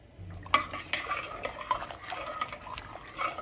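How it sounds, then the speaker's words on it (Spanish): Pasta stirred in a pot of salted boiling water, with a sharp utensil knock against the pot followed by soft scraping and clinking strokes, fairly quiet and close. "Lo meneo poquito para que no se pegue y ahí lo dejo que hirva"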